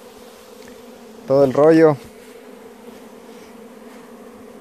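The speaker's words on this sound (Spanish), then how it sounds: "aquí atrás están las abejas de nosotros" Bees from a natural hive drone steadily through the whole clip, a low continuous hum, while someone briefly speaks over it partway through.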